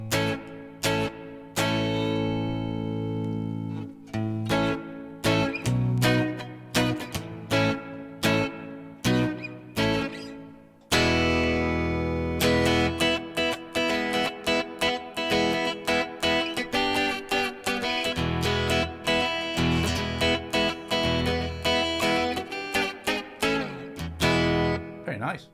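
Electric guitar through a BOSS ME-80 multi-effects pedal set to hall reverb, with a long run of strummed chords and picked notes in a steady rhythm, each sustained by a spacious wash.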